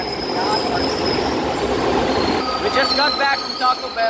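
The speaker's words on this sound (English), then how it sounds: "That's a train." A train rolls past close by, a steady rumble with wheel and rail noise and some high squeal near the end, while a person talks over it.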